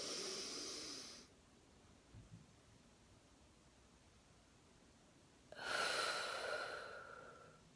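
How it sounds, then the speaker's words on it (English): Alternate nostril breathing during meditation: a soft, close nasal inhale through one nostril, a stretch of near silence, then a longer hissing exhale through the other nostril, quiet and alone. "I was cutting off the air on one nostril, inhaling on the other, then going to that other one and breathing out"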